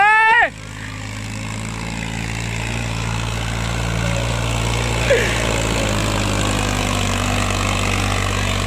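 Steady, loud drone of a 2007 Sonalika 35 tractor engine pulling a 14-disc harrow in a field, running continuously at high load, with a brief voice at the start.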